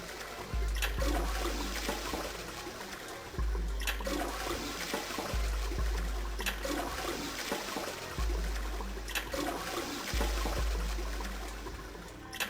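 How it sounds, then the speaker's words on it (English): A toilet in the video game Zero Escape 999 flushes again and again, each loud rushing gush of water cutting off and restarting in a repeated cycle, with no talk. "Just keep flushing, I guess."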